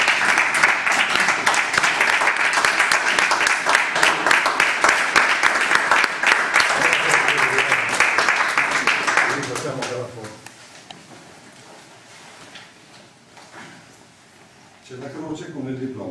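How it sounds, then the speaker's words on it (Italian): An audience at a town council meeting breaks into steady, dense applause that fills the room for about ten seconds before dying away, after which a voice speaks. "Facciamo un applauso."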